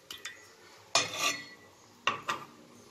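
Spoon scraping and clinking in a pot while stirring a chocolate gelatin mixture with water, a few brief scraping strokes in two close bursts, fairly near, with no talking.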